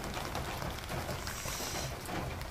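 Rain falling on a rooftop garden of succulents, an even, close patter and hiss of drops that runs steadily throughout without any talking.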